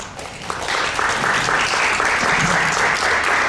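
An audience at a family and juvenile law seminar applauds a doctor coordinator, a steady wash of clapping that builds after the first half-second and holds loud to the end.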